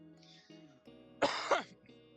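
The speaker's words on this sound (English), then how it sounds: "I keep coughing." A person coughs and clears their throat in two rough bursts over quiet background music during a home cooking stream.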